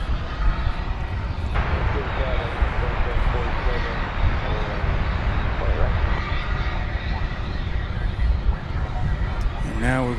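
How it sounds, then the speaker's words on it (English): A Delta Airbus A319 built in 2000 on final approach into DFW at night, arriving from Salt Lake City, its engines a loud, continuous jet roar mixed with wind noise, and voices talk over it throughout. "we have a Delta flight on final approach, Delta 1685 from Salt Lake City"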